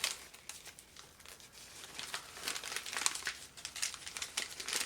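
A sheet of paper is loosely folded and crumpled around a thumb up close, a quiet run of crisp crinkles and rustles in irregular bursts with no talking.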